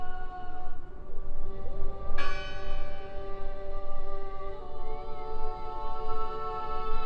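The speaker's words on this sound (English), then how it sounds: "I heard the bell!" A bell in the video game Draugen rings out once, a sharp metallic strike that leaves a long, ringing tone over a rumbling ambient bed, with sustained tonal hum throughout.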